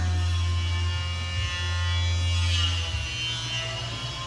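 Electric screwdriver backing a screw out, a steady loud motor hum and buzz running throughout with brief dips around the middle and near the end, close by, with no talking.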